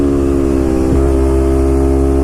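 A 2012 Kawasaki Ninja 250 motorcycle engine on a test ride, a loud, steady, close buzzing drone with a brief dip in pitch before settling again.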